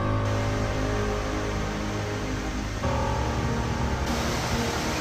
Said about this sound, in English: you can start to hear and see the waterfalls on the side.